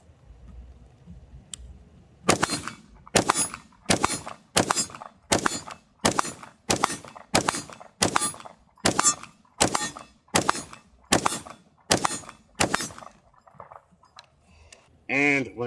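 AR-15 rifle fired at outdoor targets in a steady string of about fourteen sharp, loud shots spaced roughly half a second to a second apart, ending as the magazine runs empty, with no talking over the shots.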